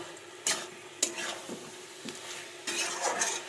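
Dry soybean curry is stirred in a pan over low heat without water, producing a soft sizzle punctuated by repeated spatula scrapes and metal clinks against the pan, up close with no talking.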